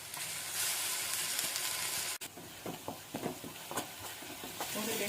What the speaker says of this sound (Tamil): ஒரு 2 நிமிஷம் மிதமான தீயில் பச்சை வாசனை போகிற வரைக்கும் வதக்கி எடுத்துக்கலாம்